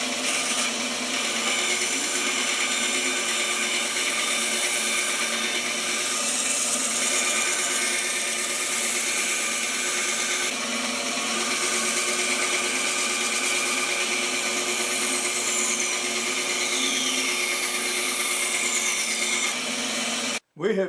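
A belt sander, used as a knife-grinding machine, runs continuously in a workshop while metal for a carpet-lifting tool is ground, a loud, steady whine with shifting grinding tones that cuts off sharply at the end.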